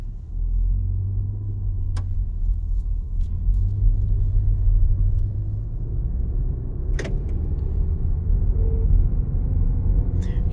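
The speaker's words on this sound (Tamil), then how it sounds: "ஹில்ஸ் ஏறனால ரொம்பவே ரெவ் ஆகுது" A Toyota Glanza AMT car climbing a hill, its engine holding a steady low rumble heard from inside the cabin, with a couple of faint clicks and rattles over the drone.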